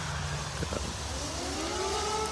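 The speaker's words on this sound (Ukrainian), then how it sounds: "О, і в нас почалася повітряна тривога." An air raid siren wails from a distance, faint rising and falling tones drifting over steady background noise at a self-service car wash in Ukraine.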